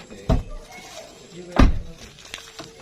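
Two solid thunks of a Daihatsu Sigra car's right door being shut, spaced about a second apart, close and moderately loud with a little faint background noise.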